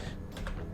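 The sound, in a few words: pressing computer keyboard keys in Blender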